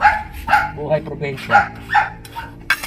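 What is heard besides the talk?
dog barking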